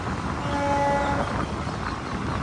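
A passing train rumbles steadily, with a brief horn-like tone near the start, heard without talk.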